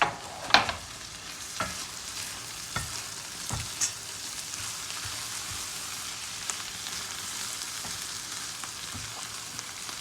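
Green lentils are stirred in a hot pan with salt, making a gentle continuous sizzle broken by a few sharp scrapes and taps of the spoon.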